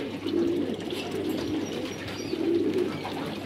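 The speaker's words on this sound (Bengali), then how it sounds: "এগুলা হচ্ছে কাতারে কবুতর, কবুতরের ফার্ম, চতুর্দিকে কবুতরের ফার্ম।" Pigeons coo at a pigeon farm in Qatar, soft repeated low coos from several birds close by, with faint background chirps and no speech.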